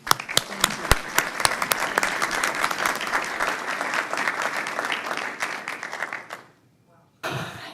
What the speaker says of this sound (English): I'd like you all please to give a round of applause to the newly elected, the chair-elect of the Miami-Dade Expressway Authority